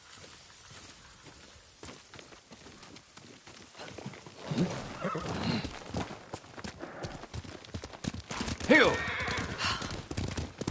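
A horse ridden in the video game Ghost of Tsushima clip-clops at a steady pace, with hoofbeats running under dialogue and a brief shout.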